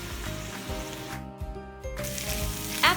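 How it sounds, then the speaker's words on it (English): Ground pork frying in a pan as its water cooks off, a close, crackling sizzle that briefly drops away then returns with bursts of spitting. "You can also hear this change as well by how crispy the grounded pork is frying on the pan."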